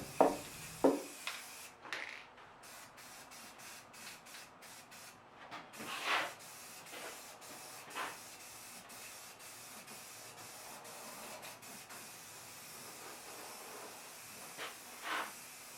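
Short hissing bursts of spray paint coat a sandpaper storage rack, several quick puffs followed by longer sprays, fairly quiet and close, with scattered clicks between them.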